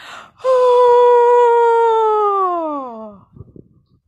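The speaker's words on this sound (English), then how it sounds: "It's called the yawn." A group of people yawning together during a storytelling workshop exercise, one long drawn-out voiced yawn lasting about three seconds and falling in pitch at the end, loud and close, followed by faint shuffling.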